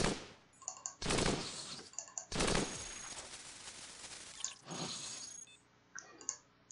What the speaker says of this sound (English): So I'm just going to shoot him from here.